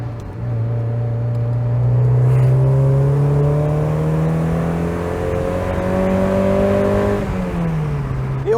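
Mazda MX-5 fitted with an RX-7 FC gearbox revs steadily on the road, the engine note climbing and holding through the gears as it pulls, loud and close from inside the car with no talking.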